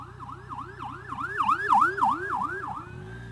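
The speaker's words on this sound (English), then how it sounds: "I hear a siren." An emergency vehicle siren wails past, its rapid rising-and-falling yelp cycling about a dozen times, swelling louder toward the middle and fading as it moves away, with engine rumble beneath.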